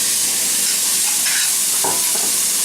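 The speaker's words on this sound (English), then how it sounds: "We're going to add the peppers and the tomatoes." Sliced peppers and tomatoes go into a hot pan of sweated garlic for Spanish rice, giving a loud, broad sizzle and hiss that fills the whole moment, with brief stirring clatters, close and without talk.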